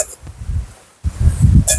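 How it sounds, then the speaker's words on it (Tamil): Strong wind gusts outdoors at a village cooking spot with an open fire and pan, buffeting the microphone in rough low rumbles that drop out briefly mid-way before returning. "சரியான காத்தடி."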